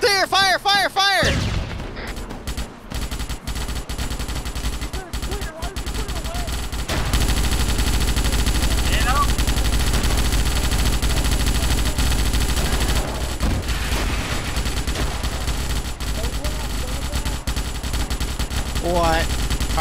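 Rapid automatic gunfire from a Starship Troopers video game, the Federation fighting Arachnid bugs, rattles continuously through most of the stretch, loud and dense, with shouting voices over it.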